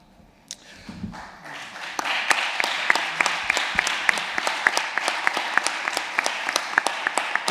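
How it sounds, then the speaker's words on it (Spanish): An audience at a presentation on Colombia breaks into applause: after a quiet second the clapping swells into dense, sustained handclaps, with sharp individual claps standing out. "os agradezco los aplausos"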